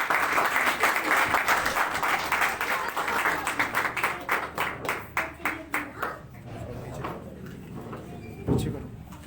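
An audience at a live event bursts into loud applause that thins into scattered, separate claps and then fades out, with a single louder thump near the end.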